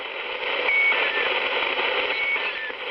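Strange radio signals: a steady, dense electronic tone with faint whistling chirps, continuous and fairly loud throughout, with no speech.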